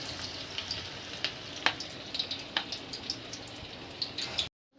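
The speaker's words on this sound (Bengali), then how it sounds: "এবার বাকি যেগুলো আছে এগুলোকে ভেজে নেব" Pakoras of taro and gram flour batter frying in hot oil give a steady, faint crackling sizzle with scattered sharp pops, close and alone, with no talk, and cut to silence at the very end.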